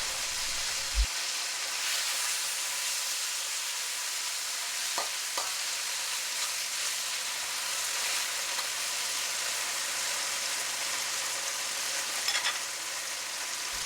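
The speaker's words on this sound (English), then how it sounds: "We'll evenly coat 2 tablespoons of oil into the hot, piping hot wok, making sure that this meat gets spread out evenly as well." Venison heart from a whitetail deer fries in about two tablespoons of oil in a piping hot wok, a continuous bright sizzle heard up close with a couple of faint clinks from utensils, no voices over it.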